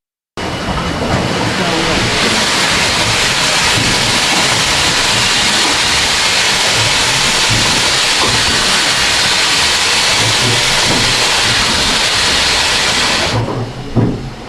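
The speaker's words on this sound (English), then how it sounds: "This is a steam winding engine that used to lift the ore out of the shaft" A steam beam winding engine, about 165 years old, once used to lift ore from a Cornish mine shaft, runs with a loud, steady hiss and mechanical churn that fills the scene before cutting off abruptly near the end.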